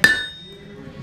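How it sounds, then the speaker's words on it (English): A single sharp hammer whack on metal to score it during knife making at a blacksmith demonstration at Wild West City in Netcong, New Jersey; a close, bright clang followed by a brief ringing decay. "And you give it a good whack"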